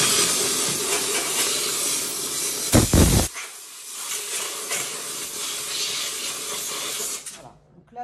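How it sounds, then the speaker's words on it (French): A steam cleaner's long nozzle sprays steam into a vacuum cleaner tube with a loud, continuous hiss. A brief harsher burst comes partway through, then the hiss settles, steadies and cuts off at the end. "J'envoie la vapeur et je vais envoyer le sprayer long à l'intérieur de la tubulure."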